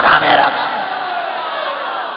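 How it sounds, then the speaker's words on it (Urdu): A crowd in a mosque loudly chanting a religious slogan in unison, a brief swelling roar of many voices that peaks at once and then holds as a long, fading sustained call. "میں آپ کے نعرے کی قدر کرتا ہوں"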